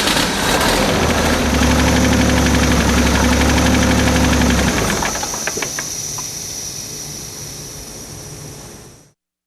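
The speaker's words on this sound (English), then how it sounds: "Start the engine and run it at idle until it runs out of fuel and dies." An engine idles steadily with a low rumbling drone until it runs out of fuel, then the rumble fades out over the last few seconds, leaving a thin hiss before it cuts off.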